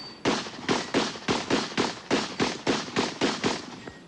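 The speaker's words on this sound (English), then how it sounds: "preparing to shoot the final stages of the Tasco Barricade event" Rapid pistol gunshots from a competitor firing the final stages of the Tasco Barricade event at the 1987 Bianchi Cup, about a dozen sharp, loud reports in a steady fast rhythm, close and with no talk.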